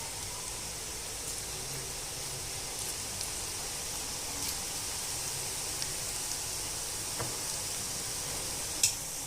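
Onion pakoda fry in oil over a medium gas flame, giving a steady, even hiss of sizzling bubbles throughout, with a few faint ticks and one small clink near the end, and no talking.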